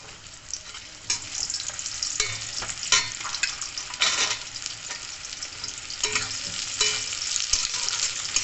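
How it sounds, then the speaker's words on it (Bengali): Carrots frying in a hot pan for veg fried rice, a steady broadband sizzle with repeated stirring scrapes and clatters, close and fairly loud, with no talking. "দিয়ে আমি গাজরগুলোকে ভেজে নেব।"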